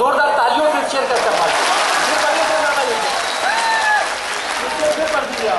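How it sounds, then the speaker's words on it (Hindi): Vigorous audience applause at the 2015 Lal Qila mushaira poetry recital, a thick sustained clapping with voices, cheers and light laughter rising over it throughout. "जोरदार तालियों से शेयर करके"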